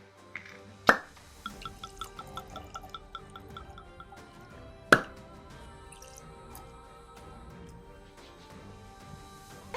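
Whiskey pours from bottles into glasses with soft trickling and dripping, broken by two sharp glassy clinks and scattered small plops, close and fairly quiet throughout.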